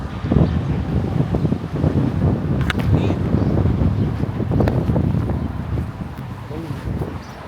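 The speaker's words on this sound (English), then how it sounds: "Windy as shit." Strong gusts of wind buffet the microphone, a loud continuous rumble with low flutter lasting throughout.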